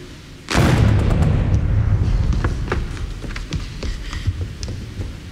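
Heavy wartime gunfire and artillery explosions erupt suddenly after a brief lull, a loud sustained barrage of booms and cracking shots rolling on without pause.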